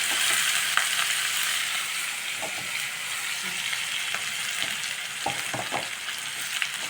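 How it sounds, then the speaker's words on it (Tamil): Capsicum sautéing in a hot pan for spicy capsicum rice gives a steady, close sizzle throughout, with occasional light clicks of a spoon stirring the pieces. "இப்போ இது வந்து ஓரளவுக்கு வதங்கிருக்கு சீக்கிரமாக வதங்கிடும் கேப்சிகம்"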